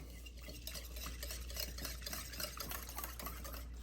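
Homemade yogurt, whey and all, is stirred in a bowl with a utensil, soft scraping and sloshing strokes repeating in a steady rhythm at close range.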